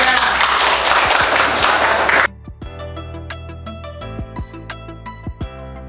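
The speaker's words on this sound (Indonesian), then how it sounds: "Tolong beri tepuk tangan untuk kelompok 2 semuanya." A classroom of students claps for a group heading to the front, dense applause for about two seconds that stops abruptly, followed by scattered taps, shuffling and faint voices in the room.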